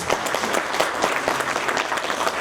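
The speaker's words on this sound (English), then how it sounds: "give them a warm round of applause" A crowd at a university inaugural lecture claps steadily and loudly, a dense continuous wash of applause throughout.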